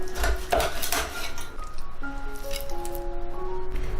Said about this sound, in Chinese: 炒鱼腩清洗干净后，给它切成块